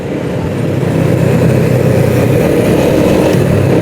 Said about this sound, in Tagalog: napakagaan kasing scooter na to eh